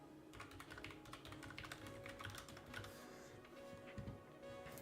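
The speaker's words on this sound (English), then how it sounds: "do let me know if my keyboard is too loud" Fast typing on a computer keyboard during Roblox game development: a continuous run of faint, clicky keystrokes at an uneven rhythm, recorded close but at low volume, with no talk over it.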